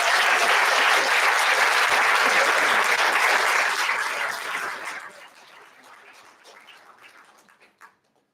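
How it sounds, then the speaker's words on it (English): A college Black History Month audience gives a loud, sustained round of applause for a former Cincinnati Bengals player and motivational speaker, the clapping fading out over the last few seconds with a few stray claps at the end. "Give him a round of applause."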